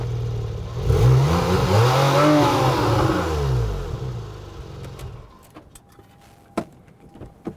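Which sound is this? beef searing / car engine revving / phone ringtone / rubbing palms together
car engine revving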